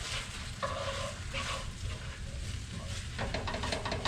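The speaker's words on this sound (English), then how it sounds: "Kind of saute this for a minute." Garlic and the white part of green onions sautéing in olive oil in a pan, giving a soft steady sizzle with occasional stirring scrapes close by.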